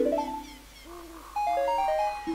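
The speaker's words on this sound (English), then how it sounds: "That Zelda thing that you're hearing is my ringtone, not the game." A phone ringtone plays a short Zelda melody of clear, bright electronic notes in a stepping tune, fairly loud and close, with no talk over it.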